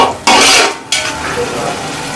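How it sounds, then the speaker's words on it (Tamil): Thick curd stirred into hot oil in a pan for prawn biryani, two sharp loud sizzling bursts as it hits and is turned, the second easing into a softer continuous fry with faint utensil scraping. "சேர்த்துட்டு இதை நல்லா கொஞ்சம் ஃப்ரை பண்ணி விடுங்க."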